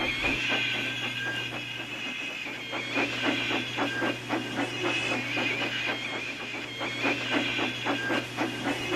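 A steam locomotive (Dylan), a shunter in a scrapyard, vents steam in a loud, steady hiss under a low hum, with rhythmic clanking pulses throughout; no speech.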